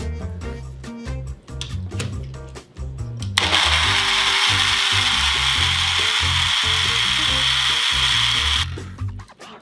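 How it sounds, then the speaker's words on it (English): A blender whirs at high speed through four ounces of breast milk, a loud steady roar lasting about five seconds that ends abruptly, after some quieter knocking and handling sounds. "Four ounces of breast milk into the blender"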